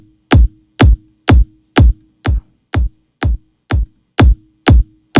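Tech house kick drum with boosted transients, eleven sharp, punchy hits in a steady quick rhythm, loud and isolated with no talking.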